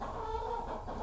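Hens clucking in a steady, close stream, with low farmyard rumble underneath and no talking.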